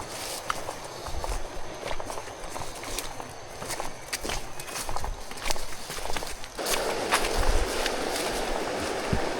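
Footsteps tread steadily along a damp forest path toward a river after overnight rain, a continuous walking rhythm under outdoor ambience that grows louder and denser in the last few seconds.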